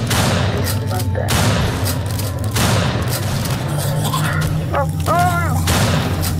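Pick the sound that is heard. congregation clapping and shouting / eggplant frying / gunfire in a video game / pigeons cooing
gunfire in a video game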